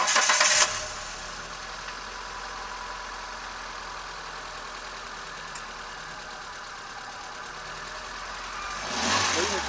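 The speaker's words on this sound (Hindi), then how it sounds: "और ये इस गाड़ी का इंजन 4 सिलेंडर कापा पेट्रोल इंजन" The 4-cylinder Kappa petrol engine of a 2022 Hyundai Santro with about 27,000 km idles as a steady, even hum, framed by short bursts of louder handling noise at the start and end.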